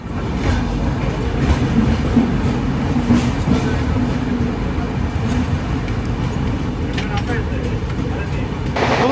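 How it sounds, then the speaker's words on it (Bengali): A train pulls into a station platform with a loud, continuous rumble and rattling carriages, and voices talk over the noise throughout. "আমাদের ট্রেন প্ল্যাটফর্মে ঢুকছে"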